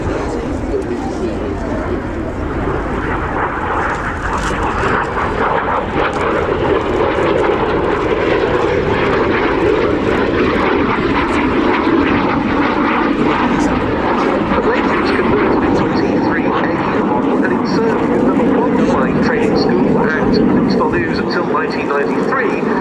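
A BAC Jet Provost, a 1961 ex-RAF jet trainer, flies at the RAF Cosford airshow, its steady engine roar filling the air continuously and loudly throughout, with a commentator talking over it.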